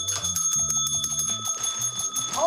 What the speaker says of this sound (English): The bells are ringing and the first appetizer is raced to the table.